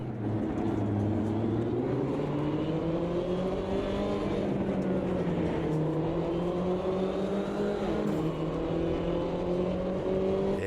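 Race car engine in Automobilista 2 at Cadwell Park, a steady loud high-revving drone that climbs and dips in pitch as it accelerates through gears, continuous and close with no talk.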